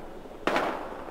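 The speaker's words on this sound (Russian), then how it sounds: "Здесь стрельба, мы тоже вступаем в бой." A single sharp gunshot in the video game Battlefield Hardline cracks out loud and close after a quiet stretch, then trails off in a short noisy decay.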